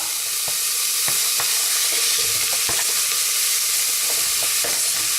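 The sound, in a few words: yellow pepper frying with onions in a pan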